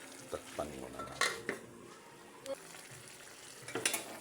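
A lid clatters onto a cooking pot of sautéed vegetables, with a few sharp metallic knocks and clinks up close, while someone talks in between.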